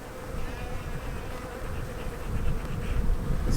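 A dense swarm of honeybees drones steadily in an opened hive being smoked, a close, loud, continuous buzz that swells slightly toward the end.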